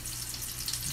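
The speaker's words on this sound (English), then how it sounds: "Dropping it in the grease." Battered vegan fish fries in hot grease, giving a dense, steady hiss and sizzle that fills the whole moment at close range with no talk.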